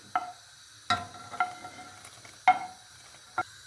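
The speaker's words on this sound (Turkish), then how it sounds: "Bir dakika sadece mantarla sütlü sosumuzun alıştırma, alışması için karıştırıyoruz" A spoon stirring mushrooms into a milky soup in a pot gives a few separate scraping knocks against the pot, close and fairly quiet, with a soft simmering hiss between them.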